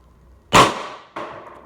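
A First Strike paintball marker with a modified air chamber and Freak barrel fires one sharp, loud shot, followed by a softer second pop about half a second later, each with a quick decaying tail.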